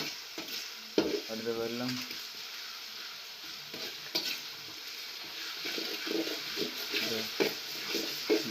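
Country chicken meat frying and being stirred in a pan crackles steadily up close, with spoon scrapes throughout and a voice talking briefly over it at the start and again near the end.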